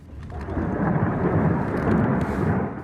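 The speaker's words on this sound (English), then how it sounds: "The sound is the Ukrainians responding with volleys of Grad rockets." Volleys of Grad rockets fired in the Donbas war near Soledar, a sustained deep roaring rumble that swells and holds, loud but somewhat distant, with no voices.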